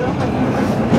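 Disneyland Railroad train rolling along its tracks at Disneyland, a brief steady rumble with faint rhythmic clatter, close and fairly loud, with voices mixed in.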